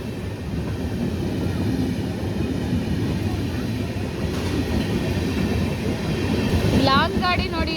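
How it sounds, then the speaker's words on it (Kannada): Bhubaneswar weekly superfast express train passing close by, a steady broadband rumble and rattle of wagons rolling continuously throughout, with a brief high squeal near the end. "Bhuvneshwar weekly super fast express"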